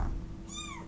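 A cat gives a single short, rising-falling meow in the second half, clear and close over a low steady background hum.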